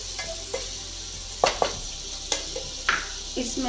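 Chicken pieces sizzle and fry steadily in a pan for spaghetti, with a continuous crackling hiss punctuated by several sharp scrapes and clinks of a utensil stirring against the pan.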